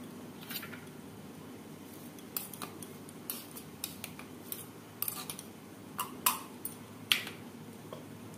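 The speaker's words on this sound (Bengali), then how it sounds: "দেড় চামচ কালো সর্ষে। 2-3 বার শুকনোই ঘুরিয়ে নেব।" Black mustard seeds dry-roasting in a pan while being stirred: light metallic scrapes and sharp, scattered clicks and pops over a quiet background, close by and irregular.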